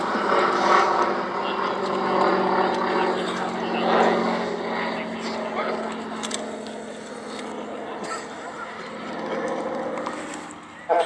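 A 1930s Hawker biplane flies past at an airshow, its propeller engine droning steadily and rising and falling in loudness as it passes, with no talking during the pass.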